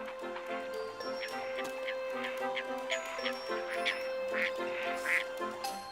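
Water birds quack repeatedly on Arctic ice in the cold, several clear calls spaced through the scene over a steady low background hum.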